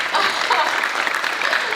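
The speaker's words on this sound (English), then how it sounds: "Applause for Stan." Audience applause at a comic convention panel, a dense steady wash of clapping from a large crowd that holds at an even level for the whole short stretch.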